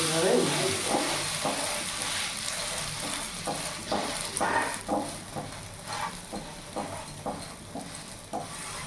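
Egg paratha frying in a pan over a medium gas flame, a continuous close sizzle with a run of scraping, pressing strokes along its edges, and no speech heard.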